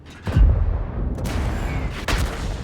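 Artillery fire in a tank battle video game: a heavy booming shot up front, then a rumbling tail and a second, softer blast near the end, loud and close with no talking.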